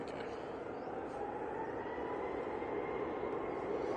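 A Ryanair airliner departs Manchester Airport, heard as a steady, distant broadband jet roar that builds slightly over a few seconds with no talk over it.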